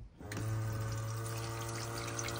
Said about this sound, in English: pumps around the pink flush fluid that we've got in the system at the moment